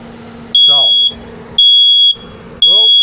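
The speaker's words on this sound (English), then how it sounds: "immediately the smoke alarm kicked in" A smoke alarm sounds inside a Harmar horse trailer after a propane heater is switched on, giving three loud, evenly spaced half-second beeps while a person talks between them.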